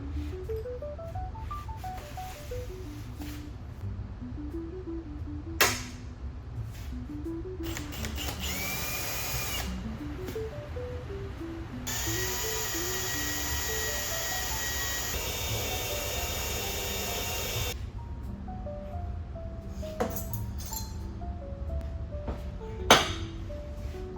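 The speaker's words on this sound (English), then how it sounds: "feel free to enjoy the sounds of the shop" A machine shop where aluminum manifolds are cut, drilled and tapped rings with rising and falling tool whines, metallic clinks and a sustained power drill run, with sharp knocks between steady shop hum.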